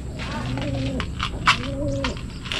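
Low, drawn-out coos from a bird come in two similar phrases over a murmur of background noise.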